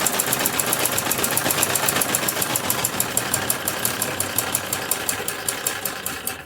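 A sewing machine runs steadily, stitching lining fabric around the neckline of a kurti, its fast, even needle clatter continuing without pause and fairly loud throughout.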